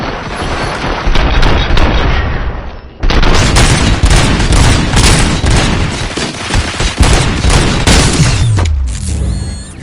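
Gunfire in the video game RoboCop: Rogue City: loud, dense volleys of rapid shots and booms firing nearly continuously, with a brief lull near the start and a tail of mechanical whirring at the end.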